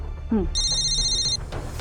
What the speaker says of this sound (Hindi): सर, कांस्टेबल गीता का फोन था